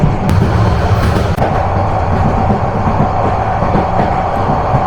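Riding aboard the Turna Express train as it runs on the tracks from Sadar Rasulpur toward Chittagong, loud continuous rolling rumble with faint rhythmic rail clatter and a couple of sharp clicks, no voices.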